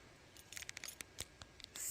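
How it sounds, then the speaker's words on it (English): Car keys jingle in a series of light, bright metallic clinks and rattles in a parking area by a hiking trail near Wenatchee, Washington, close and fairly quiet, with no talking. "Let me see my keys."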